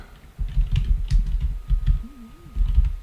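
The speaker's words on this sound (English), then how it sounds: "Let's type Bootstrap" Fingers type a short word on a computer keyboard, a quick run of close, crisp key clicks in irregular bursts with a brief pause partway through, no talking over it.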